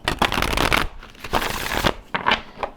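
An oversized tarot deck with thick cardstock is shuffled by hand in three separate bursts of riffling and flapping. Each burst lasts under a second, with short pauses between them, close and fairly loud.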